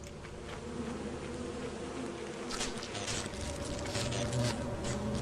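A swarm of bees buzzing from a beehive in the game Lethal Company, a steady insect drone that grows slightly louder toward the end, with faint clicks and no talking.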